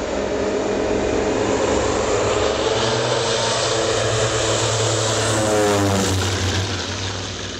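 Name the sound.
Ilyushin Il-14 propeller aircraft taking off and flying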